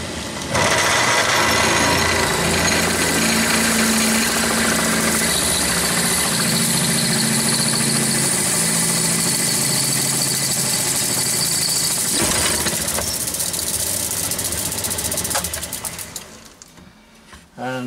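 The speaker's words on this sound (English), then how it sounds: "I'm using those drills that I got from Banggood the other day, so it's just testing these out on the aluminium and see how they cut" Drill bits bought from Banggood bore into aluminium, giving a loud, steady mechanical whine that runs continuously for about fifteen seconds before winding down and stopping near the end.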